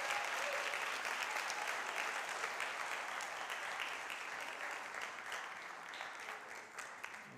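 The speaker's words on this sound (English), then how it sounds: "Can we just give them a round of applause as they come forward?" A church congregation gives sustained, steady applause as a family comes forward to dedicate their child Anaya. The clapping is dense and even, tapering slightly toward the end, with no talk over it.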